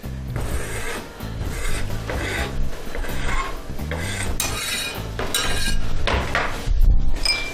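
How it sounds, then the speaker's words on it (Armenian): A spoon scrapes and stirs a spinach dish in a pot, with repeated rhythmic metallic rasping and clinking, close and fairly loud, and no talking. "Եվ լավ խառնում ենք։"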